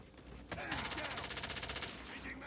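A fast burst of automatic rifle fire rattles in a rapid even rhythm for over a second in a Call of Duty shoot house match, heard fairly faint and steady.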